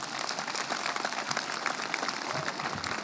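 An audience at a high school graduation ceremony applauds, a dense, steady patter of many hands clapping at moderate distance, sustained evenly for a few seconds with no voices on top.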